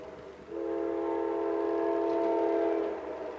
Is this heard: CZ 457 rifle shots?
no